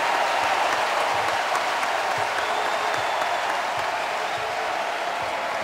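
A basketball arena crowd at a Duke home game against Davidson roars steadily and loudly after a tough bench rebound by Plumlee, a dense sustained cheer with applause that barely dips.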